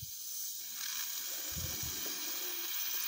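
Steady broadband hiss of air escaping from a heating radiator's bleed valve, continuous and fairly close, with a couple of low gurgling thumps partway through.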